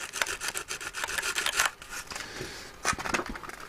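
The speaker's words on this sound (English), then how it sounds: "just give that a run over with a sandpaper" Sandpaper scrubs over electrical leads on a CB radio build in quick back-and-forth strokes, a close, coarse rasping with short bursts and brief pauses.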